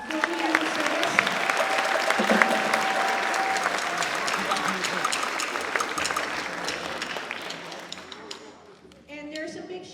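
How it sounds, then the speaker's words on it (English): Sustained audience applause at a fifth-grade town band concert, a loud, steady wash of clapping for about nine seconds that thins out near the end. "Can we give her a round of applause for 40 years of service?"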